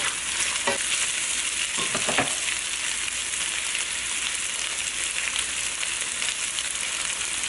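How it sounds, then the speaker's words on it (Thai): Egg and pork are stir-fried in a pan for pad see ew, giving a steady loud sizzle with a few scraping stirs of the spatula near the start. "แล้วก็ผัดนะคะให้ไข่กับหมูเข้าๆกัน"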